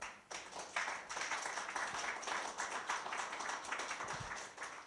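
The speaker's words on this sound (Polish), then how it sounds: "Wielkie brawa!" Audience applause at a Polish public debate on cashless versus cash society, a steady patter of hand claps from a modest crowd lasting throughout, fairly even with slight swells, heard without speech.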